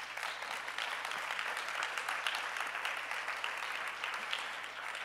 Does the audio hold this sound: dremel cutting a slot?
no